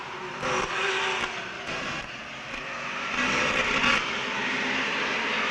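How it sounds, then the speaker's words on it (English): Race cars circle a short track during a 1999 MASCAR feature race, a distant, fluctuating engine drone with crowd and track ambience that swells toward the end, and no voices over it. "He just picked up a 1 position passing the 48 car of Dave Oblinus"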